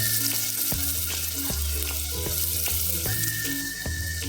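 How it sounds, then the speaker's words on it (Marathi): Finely chopped onion frying in hot oil for a Marathi chicken rassa, a steady close sizzle with a few clattering stirs and knocks of a utensil against the pan, no voices. "तेल गरम झालं ना की कांदा घालूया बारीक चिरलेला."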